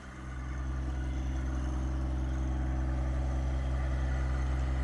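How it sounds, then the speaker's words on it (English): A small John Deere tractor's engine works to raise a load of about 650 pounds on its front forks, a steady close low rumble that swells in the first half second and then holds evenly, with no voices. "this little John Deere tractor should be able to pick up the closest 650 pounds with the front forks"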